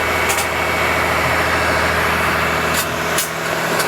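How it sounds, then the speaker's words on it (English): A fire truck's diesel engine runs loud and steady at a high idle, a constant close-up drone with a few brief hissing bursts and no talk. "So you can hear the truck. It went into a high RPM."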